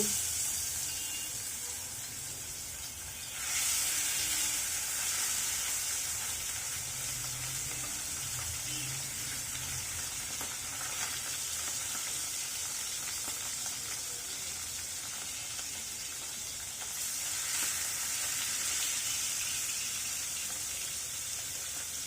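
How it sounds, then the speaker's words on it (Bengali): Goby fish fry in hot oil with a bright, constant sizzle that jumps louder when more fish go into the pan, then keeps hissing steadily with small surges, heard close with no talking. "তৈলটা গরম হয়ে আসছে মাছগুলো দিয়ে দিচ্ছি"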